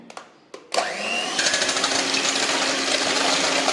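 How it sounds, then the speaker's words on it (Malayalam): An electric hand mixer whirs steadily as it beats four eggs with a splash of vanilla essence for a carrot cake batter, starting with a few short bursts before settling into a loud, continuous buzzing drone. "നമ്മൾ നാല് മുട്ടയും ഇത്തിരി വാനില സെൻസ് ഒഴിച്ചിട്ടുണ്ട് കേട്ടോ നമ്മളിത് അടിച്ചെടുക്കുന്നത്"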